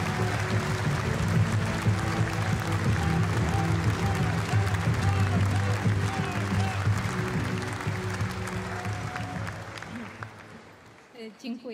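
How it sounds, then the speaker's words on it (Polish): A large audience at a PiS party convention in Poland applauds steadily for several seconds, the clapping slowly thinning out and fading near the end. "Wielkie brawa!"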